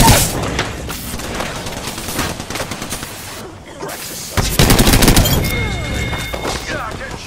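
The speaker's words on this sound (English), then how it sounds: "Opening fire." Gunfire in Apex Legends with the Caustic legend, loud bursts of rapid shots and booms in dense clusters, pausing briefly before another heavy volley near the end.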